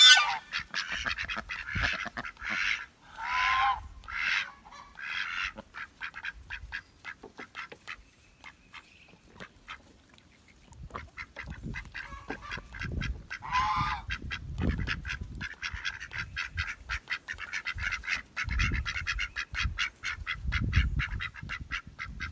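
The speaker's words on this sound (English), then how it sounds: "We still have all of our ducks." Homestead ducks, including several males, quack and honk in repeated loud bursts, dropping to a quieter lull midway before the flock starts up again.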